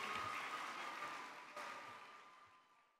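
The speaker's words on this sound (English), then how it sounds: "Let's give them a round of applause." Audience applause at a national convention, a dense wash of clapping that fades gradually over a few seconds.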